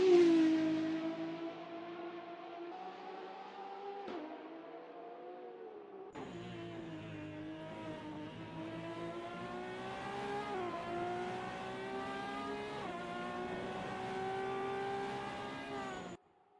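Race car in the SRA Vivid IT ProCar Series out on track during qualifying, its engine note droning steadily with rising and falling pitch as it shifts through gears, heard at a moderate distance without talk.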